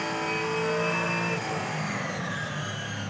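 Onboard a Supercars race car at The Bend, the engine screams loudly at high revs, then drops in pitch through downshifts as the car brakes, continuous and close.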